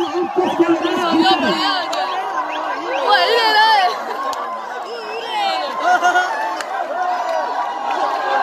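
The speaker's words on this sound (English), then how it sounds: "This is the sheer jubilations of the crowd." A crowd at a cricket ground in Abbottabad, Pakistan, cheers and shouts as people run onto the field after a victory, with a steady roar of voices, whistles and babble while someone talks close by.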